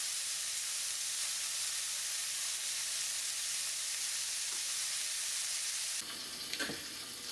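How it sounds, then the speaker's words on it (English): Burger patties frying in butter with garlic cloves and thyme, a steady bright sizzle that holds evenly, then shifts near the end as a few soft knocks and scrapes come through. "as we fry our patties, we're going to keep spooning over all the juices back onto them"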